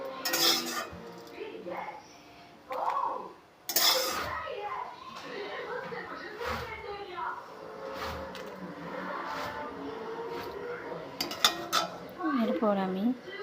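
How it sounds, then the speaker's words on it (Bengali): Fried chillies and spices for phuchka masala are scooped from a pan into a mixer jar, with metal spoon scrapes and clinks of steel utensils at close range, interrupted by someone speaking. "মিক্সিং জারে এখন তুলে নিচ্ছি।"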